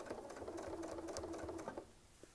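A sewing machine doing free-motion quilting runs in a steady, close, rapid stitching burst for nearly two seconds, then stops and falls quiet.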